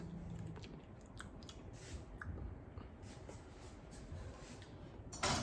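Close, moist chewing of homemade Asian aioli during a taste test, with soft squishy mouth sounds running steadily through the moment and a slightly louder burst at the end.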